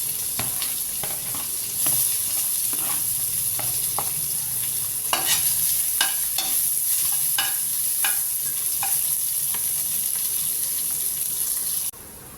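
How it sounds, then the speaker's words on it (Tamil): Onion and green chillies frying in hot oil in a pan for a prawn curry, a steady close sizzle broken by repeated scraping stir strokes, no talk. "இந்த வெங்காயத்தையும் பச்சை மிளகாயும் அதில் போட்டு பதுக்கிடலாங்க"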